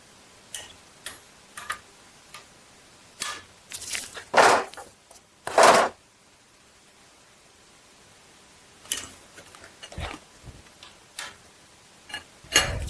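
A wrench works on a camshaft bolt of a GM 2.4 Ecotec engine during a timing chain job, with sparse sharp clicks and two louder rasping bursts in the middle, then scattered taps.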